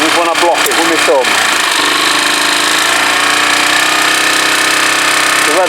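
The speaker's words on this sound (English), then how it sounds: "The revs are climbing." Kawasaki BN125 Eliminator motorcycle engine running loud and close with a vacuum leak blocked, a steady buzzing drone as the revs climb, with brief speech at the start.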